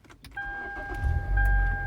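A car engine starts with a brief cranking and then catches into a low idle rumble, close and loud, with a steady electronic chime tone sounding over it.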